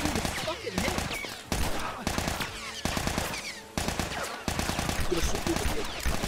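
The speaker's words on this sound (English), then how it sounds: "I shot you in the fucking head." Rapid bursts of gunfire from The Last of Us, a shooter video game, crack in repeated rattling volleys, loud and close, with players chattering underneath.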